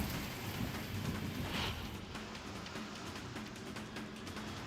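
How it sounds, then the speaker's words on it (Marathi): Heavy rain hisses steadily and densely throughout, with a low rumble like distant thunder beneath the downpour. "विजांच्या कडकडाटासह झालेल्या पावसामुळे नागरिकांची तारांबळ उडाली।"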